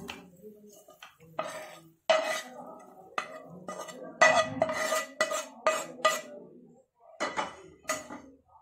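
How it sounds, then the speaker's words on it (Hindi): Cooked keema masala is scraped from a pan into a bowl, giving a series of close metallic clinks and scrapes of a spoon against cookware, irregular and moderately loud with short pauses between strokes. "अब हम इसको एक बाउल में निकाल लेते हैं, एक बाउल में इस मसाले को निकाल लेते हैं।"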